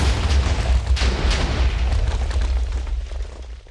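TNT explosions in Minecraft, set off in an attic packed with explosives: a series of deep, rumbling booms and bursts that roll one into another and fade slowly toward the end, with no voices.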